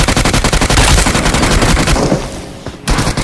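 Rapid automatic gunfire from PUBG, with dense bursts of shots in quick succession that stay loud and close, thin out and briefly stop, then pick up again at the end.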